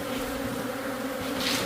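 A dense, continuous buzz of many bees in and around a hive, steady and close throughout, with no voices.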